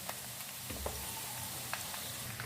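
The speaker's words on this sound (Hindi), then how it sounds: "अब इसमें हम लहसुन डालेंगे, हल्का सा इसको हमने फ्राई कर लेना है" Garlic frying gently in hot oil for a pickle mix, giving a faint, steady sizzle with a few soft crackles and light stirring taps.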